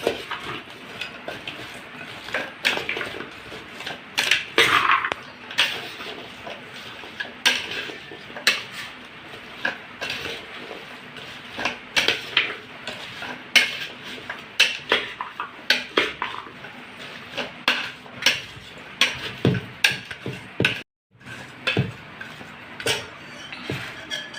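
Mango pickle being mixed in a pot, a steady stream of close metal scraping, clinks and spoon knocks that carries on for a long stretch with one brief pause near the end.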